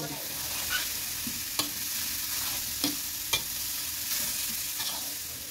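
Steady sizzling of chili pork paste stir-frying in hot oil, with occasional scraping strokes of a spatula stirring the pan, close and continuous.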